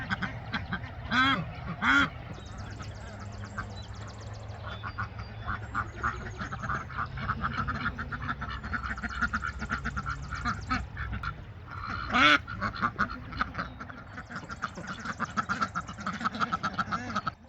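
Ducks in a barn pen quack repeatedly, with a steady chorus of nearby calls and a few louder, closer bursts of quacking standing out.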